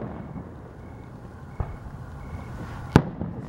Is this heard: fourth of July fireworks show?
yes